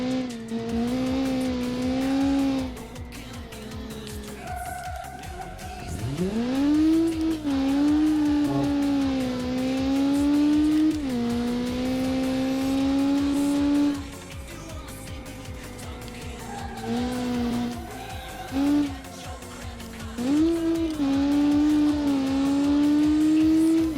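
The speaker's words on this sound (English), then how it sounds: "It's a rear-wheel drive car that has a rear-mounted engine." Rear-engine, rear-wheel-drive car driving in a video game: a loud, continuous engine drone that climbs and falls in pitch through repeated revs and gear changes, with faint tire noise and no talking.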